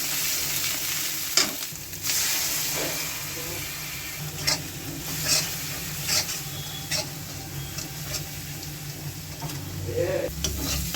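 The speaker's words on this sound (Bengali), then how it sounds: "মশলাটা পুরোপুরি ভাজা হয়ে গেছে" A spice paste of turmeric, chili powder and red chili fries in a pan for a salted hilsa curry with potato and eggplant: a steady close sizzle with intermittent stirring scrapes and taps, and no voices.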